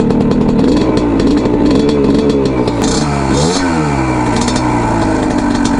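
A Honda MT5 125cc moped engine revs up and settles back in steady, rising and falling pitch sweeps, loud and close with no talking.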